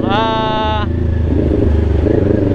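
A Kawasaki Ninja 400 motorcycle engine first rises in a high revving whine, then drops to a lower, loud, throbbing idle-like rumble as it shifts into second gear, close to the rider.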